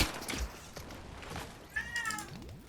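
A house cat meows in a room, a short nearby call followed by a second drawn-out meow, with light background noise from a video game.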